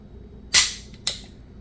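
A Sig Sauer P226 Mk25 pistol is dry-fired in double action while its trigger pull is measured, producing two sharp, close metallic clicks about half a second apart in a quiet room.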